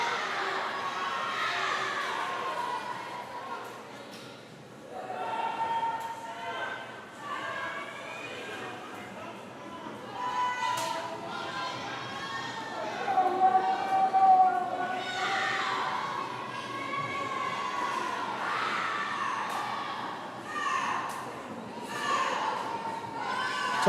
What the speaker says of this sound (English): Talk about a cheering crowd